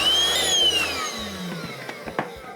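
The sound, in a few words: rechargeable hand dry vacuum cleaning a coffee grinder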